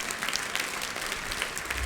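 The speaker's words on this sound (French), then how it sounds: "On applaudit Jésus." A church congregation at a French-language worship service breaks into loud, continuous applause, a dense wash of clapping throughout.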